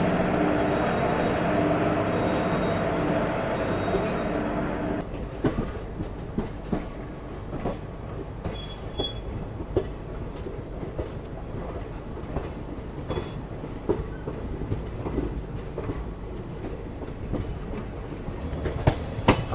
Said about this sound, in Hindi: यहाँ उदयपुर की ओर जाने वाली खजुराहो उदयपुर एक्सप्रेस भी चलने को तैयार है